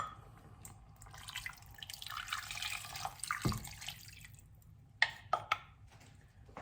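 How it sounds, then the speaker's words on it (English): Stock is poured into a duck pie filling in a pan, a soft liquid trickle and drip rising mid-clip, followed by a few sharp clinks near the end. "And now I'll add the stock."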